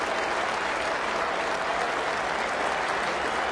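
A cricket crowd of nearly 29,000 at an Ashes Test stands and applauds Ian Bell's century. The clapping is loud and continuous and fills the whole stretch.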